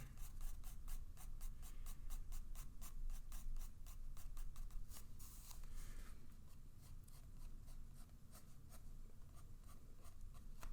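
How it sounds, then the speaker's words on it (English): A pencil sketching fine eyebrow hairs on paper, rapid short scratchy strokes in a quick even rhythm, close and quiet, easing to sparser, softer strokes toward the end, with no speech. "making sure that each hair you draw is in the right direction"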